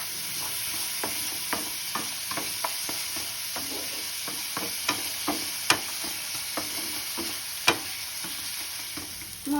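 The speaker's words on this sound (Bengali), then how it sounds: "কড়াইশুঁটিগুলো দিয়ে আবার একটু কষিয়ে নেব" Green peas being stir-fried with spices in a pan for a fish curry, a continuous close sizzle broken by frequent rhythmic spatula taps and scrapes against the pan; no voices.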